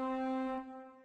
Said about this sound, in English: because a regular trumpet sounds like this